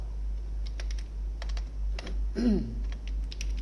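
Typing a printf statement in C code on a computer keyboard, with scattered light key clicks over a steady low hum and no speech.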